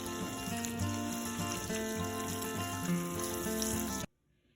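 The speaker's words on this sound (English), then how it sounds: "rinse them with the coldest water you've got." Cold tap water pouring steadily into a sink over freshly strained hot orange peels, a close, continuous rushing splash that ends abruptly when the tap is shut off.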